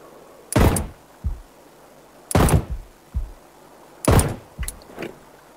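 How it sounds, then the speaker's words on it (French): Nearby gunfire in Sniper Ghost Warrior 3: three loud, sharp shots spaced a couple of seconds apart, each followed by a short echoing thud. "Ça tire tout près"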